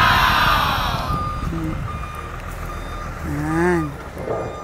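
Truck reversing on a hilly mountain road, its reversing alarm giving repeated beeps at close range over low engine rumble.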